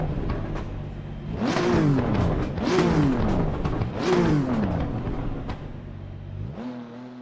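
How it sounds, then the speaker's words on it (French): A race car engine in the Assetto Corsa Competizione racing game revs three times in rising, falling sweeps over a steady idle, loud and close, then drops back to a smooth idle. "Allez, le son du moteur."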